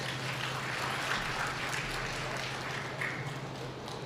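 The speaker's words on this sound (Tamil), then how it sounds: "கரெக்ட் கைதட்டல் கொடுக்கணும்" An audience claps together during a Tamil motivational talk on success, a steady dense patter of applause that fills the space at even volume with no pauses.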